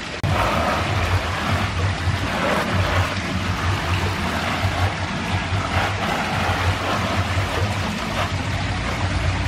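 Water sprays steadily from a hose onto large philodendron plants being washed, a continuous loud rushing hiss with no pauses.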